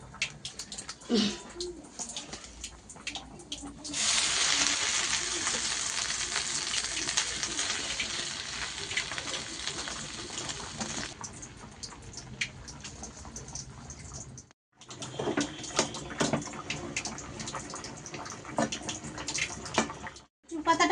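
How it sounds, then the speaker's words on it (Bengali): Taro leaves are set to boil in a pot of water in a home kitchen, with a rush of hissing, bubbling water swelling to a steady roar, and scattered clinks and handling noises around it. "এবার কচুর পাতাটা আমি সিদ্ধ বসিয়ে দেবো"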